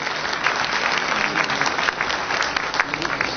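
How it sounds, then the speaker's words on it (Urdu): Audience applause at a political gathering in Karachi, a dense continuous wash of many hands clapping, steady and fairly loud throughout with no speech over it. "ان کے لیے بھرپور تالیاں ہونی چاہیے"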